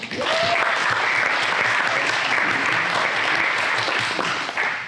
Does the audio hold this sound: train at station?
no